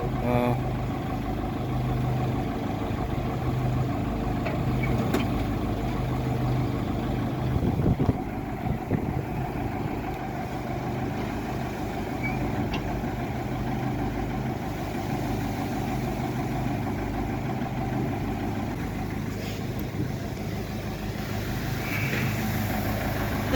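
A ZIL truck fitted with an SMD-18 tractor diesel engine drives along with a steady, low, rumbling drone that continues throughout, plus some wind buffeting.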